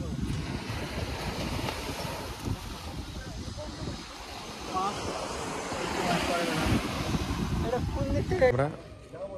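Sea surf rolls in before the ruined Fraser bungalow on the Bakkhali coast, a broad, uneven wash of waves mixed with wind buffeting the microphone, swelling louder toward the end.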